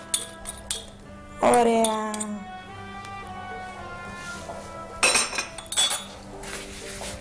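Clinking of a spoon against a glass as baking soda is stirred into cognac, bright ringing taps near and clear, with a short spoken word over the clatter.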